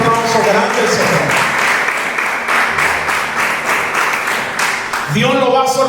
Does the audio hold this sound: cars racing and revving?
no